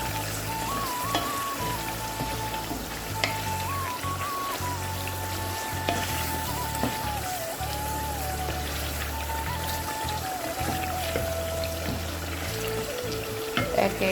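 Prawns sauté with ground spice masala in a pan, a steady, close, rain-like sizzle running throughout, with occasional stirring clinks and scrapes and no talk.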